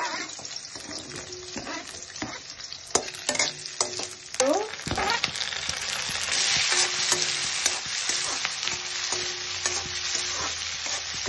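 Chicken meat sizzles in a hot pan while a spoon stirs and scrapes it repeatedly, with clacks and knocks against the pan over a steady frying hiss; no talking.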